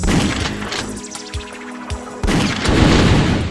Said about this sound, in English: So now I should be able to blow them barrels up